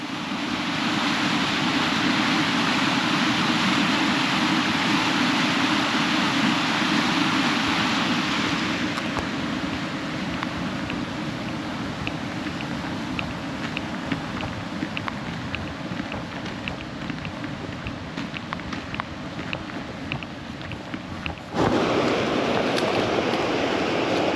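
Steady roar of fast-rushing water, loud and continuous throughout, with wind buffeting the microphone and no voices.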